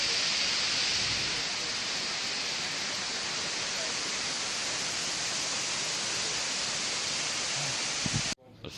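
A waterfall of clear blue water pours in a steady, dense broadband roar, loud and continuous throughout with no talk, cutting off abruptly near the end.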